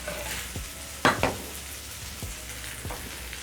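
Caramelized bananas in a hot pan give a soft, continuous sizzle with a few sharp scraping stirs of a utensil against the pan, close and clear with no voices.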